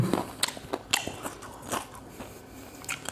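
Crunchy homemade popcorn chicken wings bitten and chewed up close: several crisp, crackling bites spaced irregularly, fairly quiet and with no talking.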